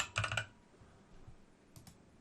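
A computer keyboard clatters with a quick burst of typing, then a few scattered keypresses, close and fairly soft against a quiet room during HTML page editing.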